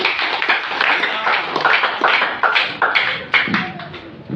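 A church congregation claps together in a quick, steady rhythm, close and lively, with sharp overlapping hand claps throughout.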